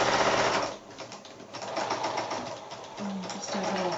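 Sewing machine making a short lock stitch on quilt binding, a fast mechanical rattle of the needle that slows and pauses, then resumes in quicker bursts, close and clear.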